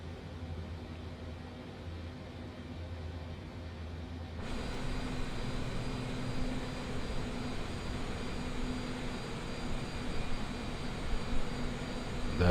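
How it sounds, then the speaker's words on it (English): A steady, broadband jet roar comes from an Oman Air Boeing 787 Dreamliner in flight, heard from inside the cabin. It grows noticeably louder and fuller partway through and then holds constant, with no speech. "in the beautiful Oman Boeing 787 Dreamliner"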